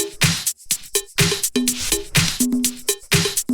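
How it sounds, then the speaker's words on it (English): Busy disco house percussion loop with bright shakers, claps and tonal hits in a tight repeating groove, dense and steady throughout. "after that we have the percussion, which altogether sounds like this"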